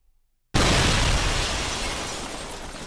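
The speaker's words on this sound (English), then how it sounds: "Anyway, I had an explosion." A single explosion sound effect bursts in suddenly after brief silence, loud and broadband, then rumbles and slowly decays with no voices.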